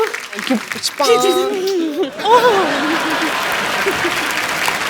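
A studio audience at a comedy talk show with a cricketer and his wife applauds loudly and steadily, with tonal voices and laughter cutting through near the start before the clapping settles into a sustained wash.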